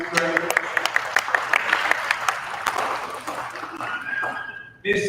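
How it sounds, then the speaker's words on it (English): An audience at a financial aid information session gives a round of applause, sharp individual claps forming a loose patter that thins out and fades, with voices mixed in and near silence before a final burst. "You can give a round of applause."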